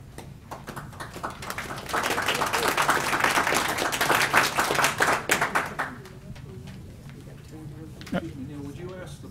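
A room full of people claps for a few seconds at a city council meeting, the applause swelling then thinning into scattered claps, with murmured voices as it fades.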